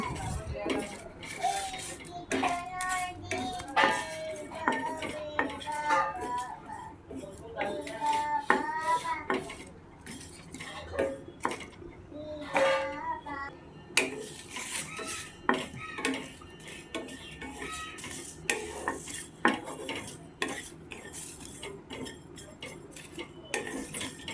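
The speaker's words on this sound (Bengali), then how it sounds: "এক চা চামচ পাঁচফোড়ন দিয়ে এটাকে লো ফ্লেমে ভালোভাবে বেজে নেব" Repeated clinks and scrapes of a spoon stirring panch phoron and dried chilli frying on low flame in a metal pan, at an irregular rhythm, with some soft background voice or music.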